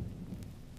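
Thunderstorm over a mountain summit, with a steady low rumble of thunder and a wash of rain, loud and continuous over a brief moment with no voices.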